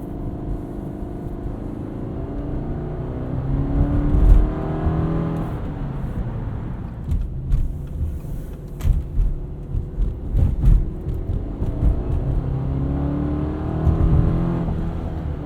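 A 2019 Subaru Forester Sport's engine pulls hard under acceleration while being driven at night, a steady rising drone heard from inside the cabin, with a few shifts and surges of revving partway through.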